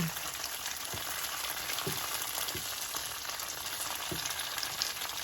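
Tofu fries in a pan on high heat, a constant bright sizzle with a few soft low thumps as pieces shift or settle; no one speaks.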